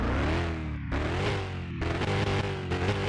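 A 2017 Ford Mustang's Coyote V8 in Car Mechanic Simulator 2021 revs up repeatedly, with its pitch climbing and falling in several surges over a continuous, loud, close engine drone.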